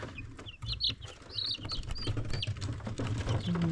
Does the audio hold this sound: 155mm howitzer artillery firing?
no